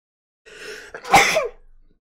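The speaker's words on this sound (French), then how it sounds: "je suis désolé, je vais éternuer" A single sneeze, a short breathy intake followed by a sharp explosive burst that trails off quickly, close by.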